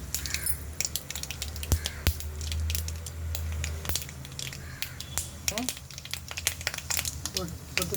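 Seeds splutter in hot oil with chillies while rasam vada is being made, giving sharp, scattered pops and crackles close up against a low background hiss.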